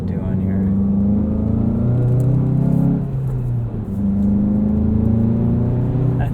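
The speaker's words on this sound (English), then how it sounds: "It's got just a little bit of an induction noise, which is still probably artificially piped in, but it sounds nice." A 2017 Volkswagen GTI Sport with a six-speed manual gives a steady engine drone with light induction noise while driving, swelling and easing as revs change, heard from inside the car along with road rumble.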